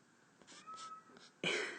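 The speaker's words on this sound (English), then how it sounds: "There's a cat who really wants to be a part of this math lesson" A cat meows several times nearby, short plaintive calls building to a louder, longer meow at the end, in an otherwise quiet room.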